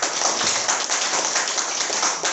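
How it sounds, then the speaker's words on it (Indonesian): An audience applauds at a crypto presentation: a steady, dense wash of many hands clapping, loud and sustained, with no talking over it. "Tepuk tangan dulu dong."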